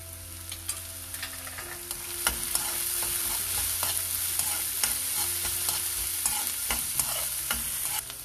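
Chopped onions and grated ginger hiss softly in a hot pan while a spoon stirs them with light scraping taps, a steady low sizzle heard up close with no talking.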